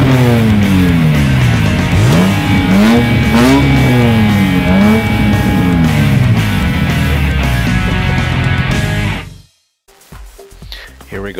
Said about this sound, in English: we're going to be taking the E46 M3 for a spin in Gran